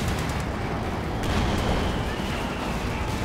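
Gunfire and shelling in a Company of Heroes 2 battle, a dense continuous wash of rumbling explosions and crackling shots, loud throughout with sharp bursts standing out.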